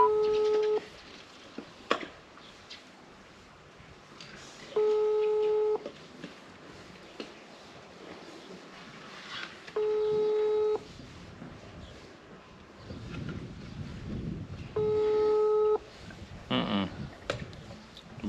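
A telephone busy signal repeats four times while calling, steady tone bursts about a second long spaced several seconds apart, with faint background noise and a voice between them.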